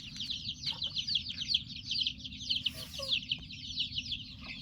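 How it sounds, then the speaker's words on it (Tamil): Chickens cluck and chirp almost continuously on a farm, a busy stream of high calls over a low steady rumble, at moderate distance. "கோழியெல்லாம் தான் வெளியே சுற்றிட்டு இருக்குது."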